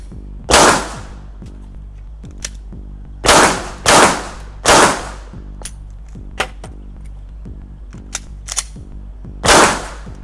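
Pistol shots fired at balloon targets on a shooting range, five sharp loud cracks spaced unevenly over several seconds, with a few faint clicks between them and no talking.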